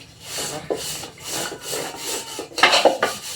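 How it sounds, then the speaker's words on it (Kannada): Pots and dishes are scrubbed by hand in a home kitchen with repeated rhythmic rubbing and scraping strokes, close and fairly loud. A harsher burst of scrubbing comes near the end. "ತಿಕ್ಕು ಶಿವ"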